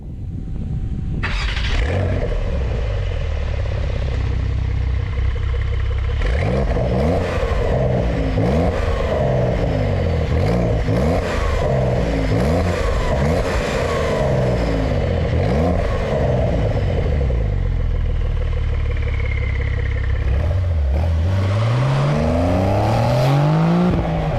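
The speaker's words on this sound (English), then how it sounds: "it is a relatively smooth and sonorous engine that really likes to rev out" A 2022 Porsche 911 Targa 4 GTS engine starts up close by, then revs repeatedly in rising and falling bursts before settling into a loud, throaty idle.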